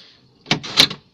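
Central locking on a Citroen BX working as the car door is locked, a quick pair of close mechanical clunks under a second long, alone without talk.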